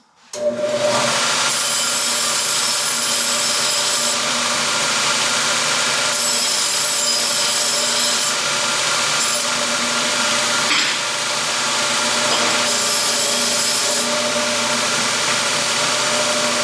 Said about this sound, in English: So we'll get started here on deburring the ends of these.